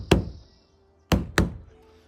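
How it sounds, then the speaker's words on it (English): Knuckles rap on insulated wall panels inside a van under construction: one knock, a pause, then two more in quick succession, each a dull, solid thud with little ring. "I'm going to go ahead and tap where I've already put some panels in"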